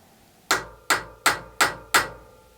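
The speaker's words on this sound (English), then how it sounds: "you want to put that right in the center of the post and hammer it in just to make a divot on the end" A hammer drives a metal punch into the end of a Stratocaster tremolo arm post to make a divot: five sharp, evenly spaced metallic strikes, loud and close, with nothing else around them.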